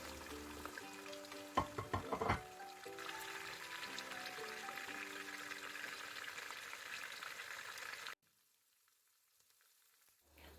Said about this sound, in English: we're just gonna fry our saltfish until it's crispy